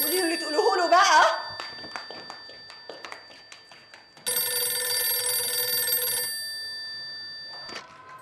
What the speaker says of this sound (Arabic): ده اكيد مصطفى. هتردي عليه انت ولا ارد عليه انا